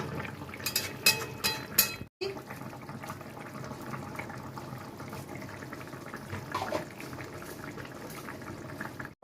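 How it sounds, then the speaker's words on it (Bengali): Potatoes boiling in a pot, a continuous bubbling, churning liquid sound that is fairly soft and close, with a brief cut partway and a few louder splashy moments, no speech. "আলুগুলো একটু সেদ্ধ হবে, হয়ে গেছে, একটু সেদ্ধ হবে।"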